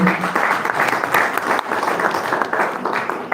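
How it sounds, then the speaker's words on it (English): An audience at a leaders' retreat in Fort Portal applauds an honorable official, a loud, sustained round of many people clapping, dense and fairly even, with slight swells and no speech on top. "Another round of applause for Honorable."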